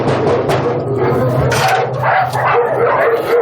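Many dogs bark and yelp at once in a crowded Armenian shelter housing over two hundred dogs, a loud, continuous overlapping chorus of barks and whimpers close by.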